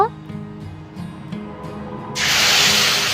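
Ground spice paste hitting hot oil in a pan with fried chillies and black cumin, bursting into a loud, steady sizzle near the end after quieter stirring and low scraping.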